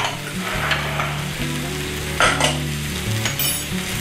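Spices being roasted with arbi (taro root) in a pan, coriander powder, red chilli powder and dried mango powder sizzling steadily at close range while a spoon stirs and scrapes, with a low steady hum underneath.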